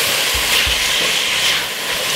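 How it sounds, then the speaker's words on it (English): Cabbage and green peas in a Jamaican-style stir-fry being stirred in a pot, a continuous loud sizzle and hiss with soft scraping thumps of the stirring underneath. "So give it a quick stir."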